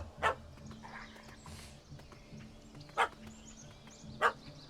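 A puppy gives three sharp, separate barks spaced a second or more apart over a quiet outdoor background, with faint hoof-like clopping between them.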